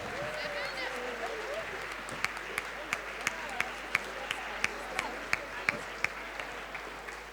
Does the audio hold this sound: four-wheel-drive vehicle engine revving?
no